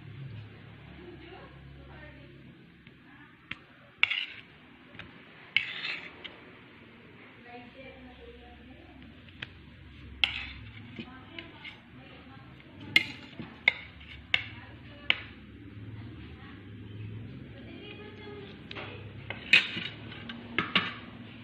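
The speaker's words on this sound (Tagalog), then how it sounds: "Okay, ilagay na po natin siya sa plate." A funnel cake pancake topped with sprinkles is set onto a plate, with scattered clinks and taps of dishes and cutlery ringing out at a moderate distance while a voice talks in the background.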